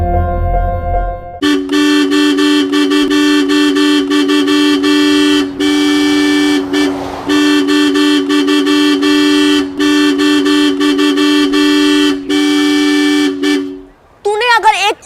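A car horn blares almost continuously in long, loud blasts with brief gaps, repeated honking on a road; a voice cuts in at the very end.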